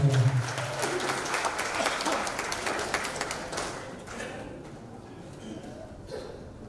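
Audience applause at a ceremony stage event, a dense, steady clatter of clapping that starts loud and gradually thins and fades over several seconds, with no talk over it.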